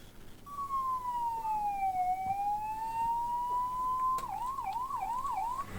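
An ambulance siren in Chhattisgarh, India, as ambulances set off from a flag-off event: one long, slow-rising wail that switches into a quick repeating yelp, clear and fairly close over a low background rumble, with no voices.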